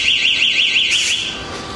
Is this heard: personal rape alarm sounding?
yes